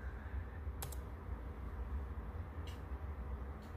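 Faint keystrokes on a computer keyboard tap out a couple of brief clicks over a steady low background hum, quiet and close.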